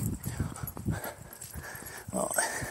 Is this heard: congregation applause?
no